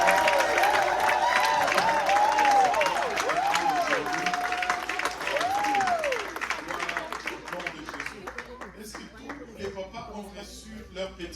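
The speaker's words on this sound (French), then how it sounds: "Est-ce qu'on peut applaudir pour nos papas?" A church congregation at a Father's Day celebration claps and cheers for the fathers, with dense crowd applause under music and voices that gradually thins toward the end.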